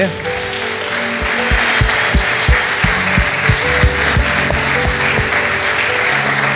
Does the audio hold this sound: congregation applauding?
yes